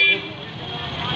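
Busy street traffic at Chandni Chowk in Araria, Bihar: a brief car horn toot at the start, then a steady roadway rumble and hiss with people talking.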